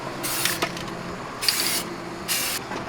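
Aerosol spray paint applied to the cowl of a Honda CR-Z, three short hissing bursts of even mist with brief pauses between, close up and fairly loud.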